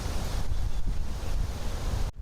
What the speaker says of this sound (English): this will pop up and spray for several feet